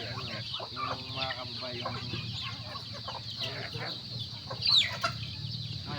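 Chickens on a farm, steady overlapping clucks and soft calls from several birds near and farther off, with one sharper squawk toward the end.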